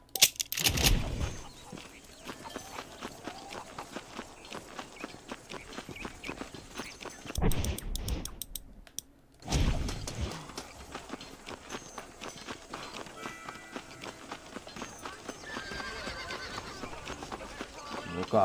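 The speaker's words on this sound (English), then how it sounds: "Cadê meu cavalo?" Horse in the video game Red Dead Redemption, with hooves clip-clopping at a run and loud neighs and whinnies in bursts, under an excited voice talking.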